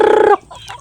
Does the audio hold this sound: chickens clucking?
yes